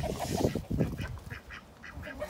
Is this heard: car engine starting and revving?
no